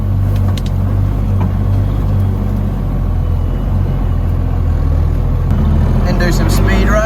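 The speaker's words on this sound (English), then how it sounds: "we'll carry on driving a bit" Car driving along at modest speed with a steady low engine and road rumble throughout, fairly loud and continuous, with no talking.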